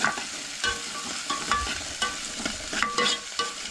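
Onion for a Goan-style coconut egg curry sautés in a pan, with a continuous frying sizzle broken by repeated scraping stirs of a spoon at an irregular rhythm, close up, no voices.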